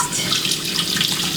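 Tap water runs steadily over lentils being rinsed, a close, loud, continuous hiss and splash with no break.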